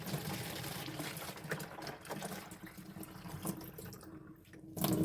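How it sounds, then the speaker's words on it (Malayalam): Water runs from a tap into a plastic bottle for a self-watering plant setup, a steady close gurgling flow with small splashes that briefly cuts out near the end before resuming. "ഇനി നമുക്ക് ഈ ബോട്ടിലിട്ട് വെള്ളം നിറച്ച് കൊടുക്കാം."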